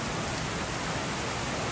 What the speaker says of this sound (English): since it's pouring rain